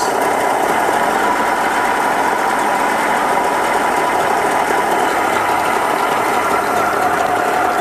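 A Mercury 60 hp outboard motor idles while warming up on a cold day, a steady, loud mechanical rattle and hum running without a break and without talk.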